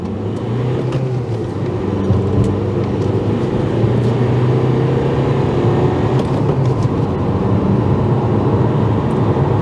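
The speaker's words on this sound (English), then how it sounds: "Driving the Accord Euro diesel" A Honda Accord Euro CN1 diesel car drives along with a steady low engine drone and road rumble from inside the cabin, constant and fairly loud with no talk.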